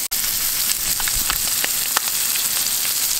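Florida pompano fish blacken in a hot pan, giving a loud, continuous sizzle with scattered crackles and pops close by.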